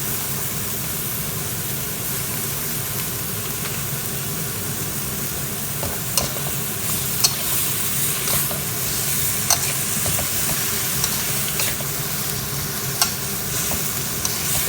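Pork stir-fried with holy basil in a pan, a steady loud sizzle with scraping stirring clicks and occasional sharp ticks throughout, no voices.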